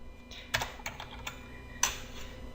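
Key presses on a computer keyboard while entering a formula into an Excel spreadsheet, a few scattered clacks including one sharper final keystroke, close and fairly quiet, with no talking.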